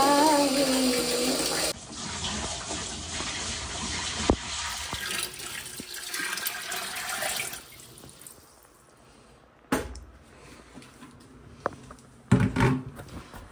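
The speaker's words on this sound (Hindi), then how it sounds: "आप देखिए मैंने यहाँ पानी फिल कर दिया" Tap water runs into a portable washing machine tub, a loud steady rush for the first seconds that then drops to quieter trickling and sloshing, with a few sharp knocks and splashes.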